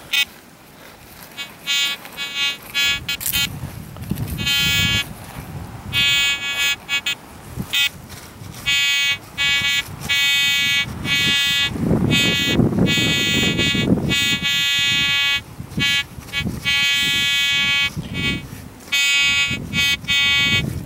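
Repeated electronic beeping tones from a Minelab Etrac metal detector chirp on and off in bursts over outdoor rustling at a farmhouse, loud and close, with no talking.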